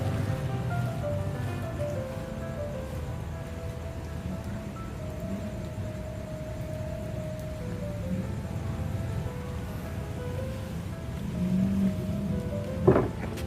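Evening rain near Bang Sue Central Station in Bangkok makes a soft, steady hiss over a low background hum, with no talk and one brief sharp knock near the end.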